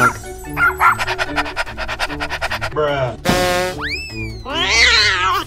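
A cartoon dog barks in a quick run of bright, evenly spaced yips over background music, followed by a sharp boing and a swooping effect.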